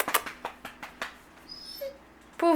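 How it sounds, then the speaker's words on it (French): A small, frightened dog stuck and hesitant to come out whimpers in a series of short, faint, high cries at a quick irregular rhythm, close by, with a soft squeak near the end. "Pauvre petit chien!"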